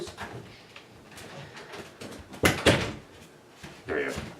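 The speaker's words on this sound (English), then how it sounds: "Stop it, door!" A door knocking and banging open and shut, a few sharp thuds loud against the nearby room, with someone talking over them.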